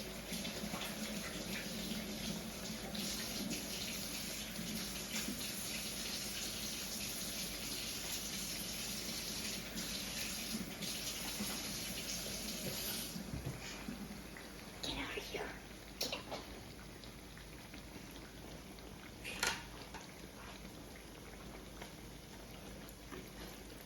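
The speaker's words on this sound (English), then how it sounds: "Let me wash my hands." Tap water runs steadily for a long stretch as hands are washed during fry bread cooking in a kitchen, with faint background noise and a few brief clatters near the end.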